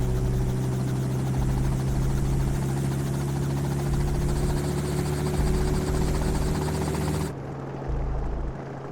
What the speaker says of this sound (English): The helicopter is also frequently used by the U.S. Environmental Protection Agency.